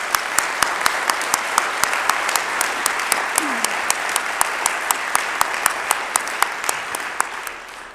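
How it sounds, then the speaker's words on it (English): Steady, fairly loud audience clapping at the renaming ceremony for a college's School of Business and Technology, a dense, even round of applause lasting the whole eight seconds. "Can we give them a round of applause?"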